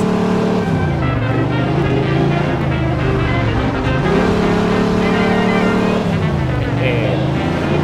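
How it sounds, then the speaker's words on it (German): Car in the Mafia 2 video game starting and pulling away, a loud steady engine drone with rising and falling gear shifts throughout. "Karre an, wir fahren los"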